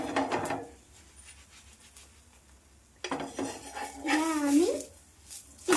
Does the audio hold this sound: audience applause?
no